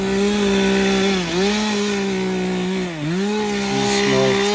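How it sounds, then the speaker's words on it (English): Stihl 362 chainsaw cutting small roadside trees, its engine droning loud and close with two brief bogs as the chain bites into wood, then rising back to full revs. "These small trees, I couldn't do nothing but use the chainsaw."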